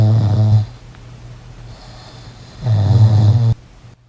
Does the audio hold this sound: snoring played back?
yes